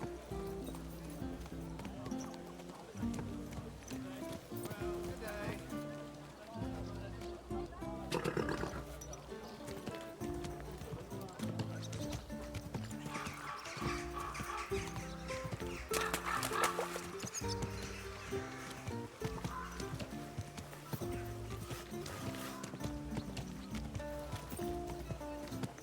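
Horse hooves clip-clop steadily along with occasional whinnies and other animal sounds in the video game Kingdom Come: Deliverance II, over a constant background bed.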